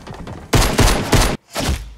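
Gunfire in the video game Fortnite, Season 4, at Dusty Divot: loud, dense bursts of shots in three close volleys, then a short silence and another burst, with no talk.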